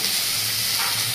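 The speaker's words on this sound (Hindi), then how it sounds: "तो चलिए हम सबसे पहले मिर्ची और प्याज को एक साथ ही छोंक देते हैं" Chili and onion dropped together into hot oil for tempering, giving a dense, steady hiss and sizzle, close and fairly loud, lasting about a second.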